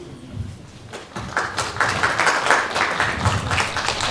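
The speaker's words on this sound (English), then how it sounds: "So let's give a massive round of applause to our Bishop." An audience at a Flames Heritage event in Malawi breaks into applause, a quiet scattered clapping that swells into a fuller, steady round of claps, with a faint voice near the start.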